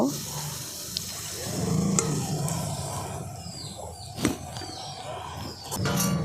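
A little water poured over a plate to rinse off spice paste into a cooking pan, a soft splashing trickle with a few clinks of utensils in a home kitchen, moderately close.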